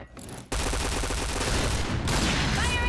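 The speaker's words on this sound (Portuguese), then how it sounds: "errei esse tiro" Gunfire in an online shooter game, a rapid burst of loud shots that begins abruptly after a short quiet moment and rattles on in a dense stream with a slight dip near the end.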